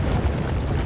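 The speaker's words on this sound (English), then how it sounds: "French cannons right now doing work." Heavy cannon fire in the video game Napoleon Total War during an 1805 battle at Gunzberg, a continuous deep rumbling roar of massed artillery with no clear single shots.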